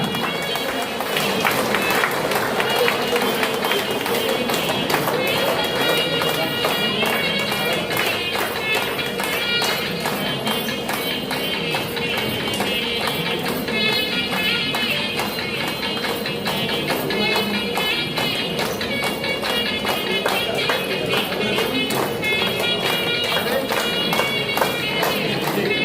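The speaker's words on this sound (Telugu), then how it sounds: "గట్టిగా క్లాప్స్ కొడదాం, గట్టిగా." Dense, continuous clapping from a seated audience at the third Avataranotsavam anniversary celebration for Patriji, loud and sustained with crowd noise throughout and no pause.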